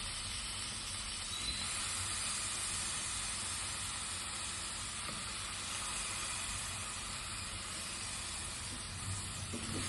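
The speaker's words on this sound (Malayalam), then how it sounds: "ആ വെണ്ടയ്ക്ക ഒരുവിധം വഴന്നു വന്നിറങ്ങി അപ്പം നമുക്ക് ഇതിലേക്ക് അരിഞ്ഞു വെച്ചിരിക്കുന്ന തക്കാളി സവാളയും ചേർക്കാം കുറച്ചേർത്ത് വഴറ്റാം" Okra sizzles in a pan with chopped tomato and onion, a soft, continuous hiss of frying that holds steady from start to finish with no voices.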